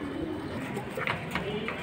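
An old-breed pigeon squab among kept pigeons gives low cooing calls amid faint chirps and background murmur, soft and near.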